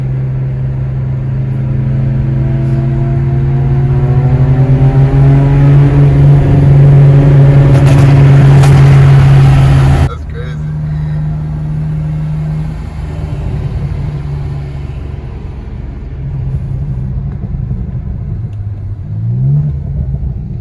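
A loud BMW N54 car engine revs up steadily to a high sustained roar, then drops abruptly and settles into a lower rumbling idle.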